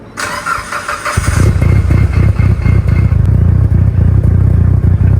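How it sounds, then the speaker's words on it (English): A built Mitsubishi Evo with a 2.3-litre stroker engine, around 450 horsepower on E85, and a loud turbo cranks briefly, then fires into a harsh, rumbling idle that stays close and very loud. "This car is so loud guys, it's not even funny."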